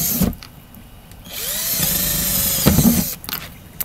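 A power drill bores drainage holes in a potato-growing container, whining in two sustained bursts between short handling knocks, close and loud with no talking.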